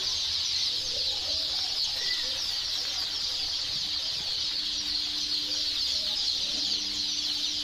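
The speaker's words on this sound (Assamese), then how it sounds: "ঘৰ ভৰ্তি হাঁহ আৰু মুৰ্গীৰ পোৱালি ইপিনেও আছে" Duck and chicken chicks crowd a hatchery stock room of local breeds, their soft peeping and chirps scattered continuously over a steady high hiss, with faint low room noise beneath.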